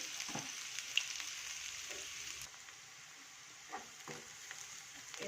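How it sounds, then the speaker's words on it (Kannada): Onions sizzle in hot oil for a black-eyed pea curry, a steady quiet frying hiss with a few soft stirring clicks and scrapes, no voices. "ಈಗ ಈರುಳ್ಳಿ ಹಾಕೊತೀನಿ"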